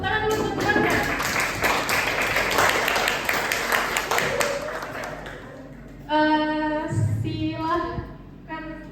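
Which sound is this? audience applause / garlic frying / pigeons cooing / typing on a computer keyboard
audience applause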